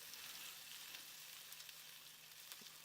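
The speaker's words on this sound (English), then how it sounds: "Getting a little bit of that sizzle right here." Ribeye steaks sizzle on a grill in a steady, close, hissing crackle with scattered sharper pops, heard alone without talking.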